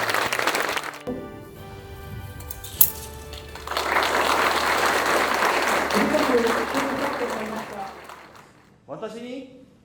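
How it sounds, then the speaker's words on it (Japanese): Audience applause at a Daihatsu Kyushu factory ceremony launching the e-Cargo and e-Atrai electric vans, a broad wash of clapping lasting several seconds in a large hall, with a sharp crack early on and a voice speaking briefly at the end. "皆様、盛大な拍手をお願いします。"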